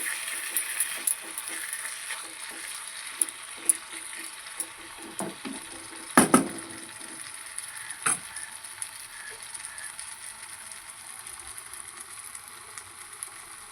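Pangas fish with tomato and spices being stirred in a pan, a soft continuous sizzle with scattered scraping clicks of the utensil and a few sharper knocks against the pan.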